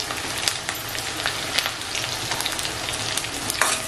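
Onion frying in a pan with curry leaves, a dense close sizzle with scattered crackles and light stirring scrapes throughout, steady and unbroken.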